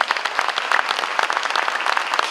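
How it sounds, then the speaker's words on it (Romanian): An audience applauds steadily at a Romanian award ceremony, dense clapping from many hands filling the room without a break. "vă rog să o aplaudăm până o premiem"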